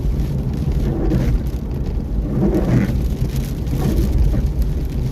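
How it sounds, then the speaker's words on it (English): Steady rain with a low storm rumble fills a stormy day in Adelaide, South Australia, the broadband wash constant and fairly loud throughout, with possible distant thunder blended into the low end and no talk. "Very unusual, stormy day for Adelaide."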